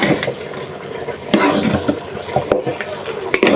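Water is poured into a cooking pot of beef with green chillies, a loud close splashing gush over about three and a half seconds with a few clatters.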